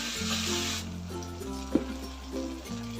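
Ginger-garlic paste hits hot oil with green chili and sizzles loudly and close, with a single scrape of stirring partway through.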